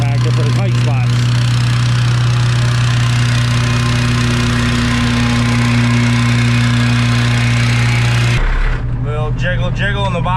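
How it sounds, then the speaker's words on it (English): A Whacker reversible plate compactor runs at a site dug into frozen ground, droning loud, close and steady, before a voice briefly talks over it at the end. "I just picked this up, this Whacker reversible plate compactor for the tight spots."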